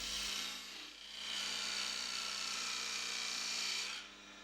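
A woodturning tool cutting a V groove into wood spinning on a lathe, a steady close rasping scrape with a low motor hum beneath, easing briefly then resuming before tapering off.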